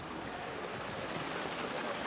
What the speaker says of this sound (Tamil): இப்போ தண்ணி ஊற்றிட்டு இருக்காங்க